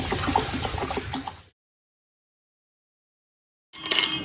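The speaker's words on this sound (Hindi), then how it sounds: "अब ठंडा पानी डाल के और इसको बारीक से पीस लेंगे।" Cold water splashes into a mixer jar holding ground raw mango for sharbat, a close rushing pour that stops abruptly, then a short burst of pouring resumes after a silent gap.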